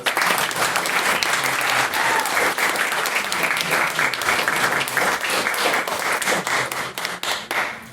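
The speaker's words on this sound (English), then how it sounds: "If once again we can get another round of applause for Miss Maiden Speaker." A roomful of people clap for a maiden speaker at a debate, a continuous thick wash of applause, close and loud, thinning slightly into scattered claps at the very end.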